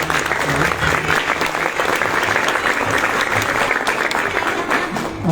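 Loud, continuous applause from an audience at a children's art exhibition, a thick wash of many hands clapping with faint crowd murmur underneath, sustained for the whole stretch.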